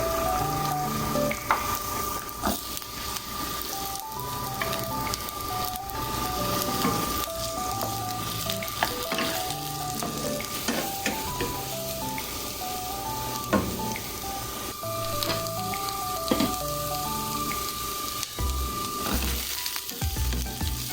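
Garlic and onion sauté in a pan for molokiya with fried milkfish, a steady sizzle with occasional stirring heard under background music with a repeating tonal melody.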